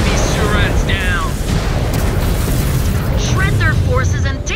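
A mech's reactor exploding in the MechWarrior 5: Clans video game, a loud, sustained booming blast amid battle noise, with radio voices talking over it.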